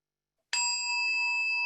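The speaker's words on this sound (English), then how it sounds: "this is the bell, beautiful bell" Single strike of a meditation bell opening a group session, a clear bright ring after a short silence that sustains with steady shimmering overtones and no voices.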